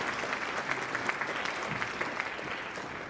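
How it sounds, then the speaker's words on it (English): Steady, moderately faint applause from an audience at a state arts awards ceremony, honoring an ASL interpreter, with continuous dense clapping throughout. "Let's also hear a round of applause for Jamie,"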